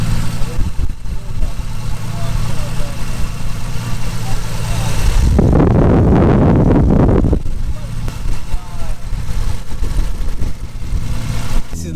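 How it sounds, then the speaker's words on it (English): A 1000bhp Nissan R33 GTR rumbles loudly at idle through its exhaust, with a deeper swell in the middle, while people talk over it. "That's what you call an exhaust."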